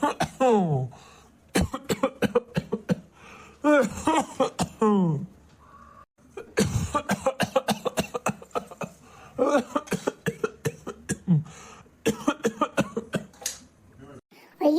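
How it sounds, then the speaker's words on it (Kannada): An old man coughs repeatedly in rough, rasping bursts from smoking beedis, broken up by groans and talk between the fits. "ಈ ಕೆಮ್ಮದನ್ನ ಕೇಳಿ ಕೇಳಿ ಸಾಕಾಗ ಹೋಗ್ಬಿಡ್ತಪ್ಪ"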